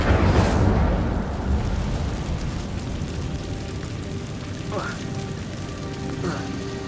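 A fire spell cast in Hogwarts Legacy, a loud rushing whoosh with crackle at the start that settles into a steady roaring burn, with short bright magical chimes near the end.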